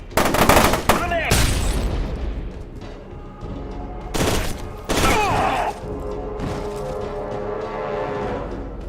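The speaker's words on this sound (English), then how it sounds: "Grenade!" Grenade blast amid gunfire in the shooter F.E.A.R. 2: loud bursts of shots and booms up front, a second heavy burst a few seconds later, then quieter battle noise, with voices shouting over it.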